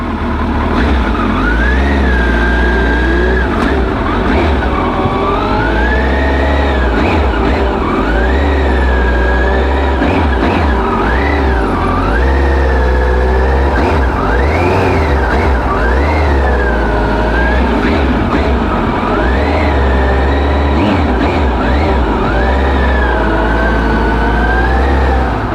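A motorcycle run as a dirt bike during slow-speed turns, its throttle snapped on and off so the engine revs rise and fall in a choppy, repeating pattern roughly every few seconds, loud and close with no talking.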